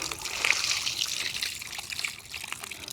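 Water trickling and splashing steadily close by, a light continuous hiss of flow with small drips over a faint background.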